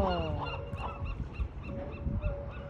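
Repeated honking calls of a bird beside a sea otter eating crab in Monterey, California, sounding close and regular over steady low ocean and wind rumble.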